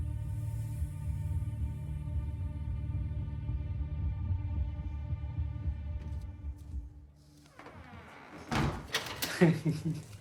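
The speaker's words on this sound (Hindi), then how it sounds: "दरवाजा बंद कर देगी" A door shuts in a Hindi film scene after a long sustained musical drone, with a couple of sharp thuds and knocks at the end, fairly close and loud.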